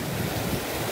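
A fast-flowing river rushes past near Santa Barbara campgrounds in a dense, loud wash of water noise with wind buffeting the microphone and no speech.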